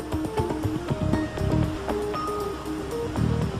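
Water of the Bosphorus Strait lapping and surging near the microphone in uneven washes, mixed with wind buffeting and a faint engine hum from a crossing vessel.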